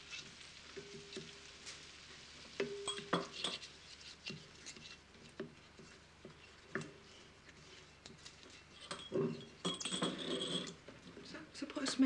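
Parsley and salt being stirred into a mixture in a home kitchen, with scraping and clinking of a utensil against a bowl, a sizzling, gritty texture and some louder rattling bursts near the end, with occasional faint voices.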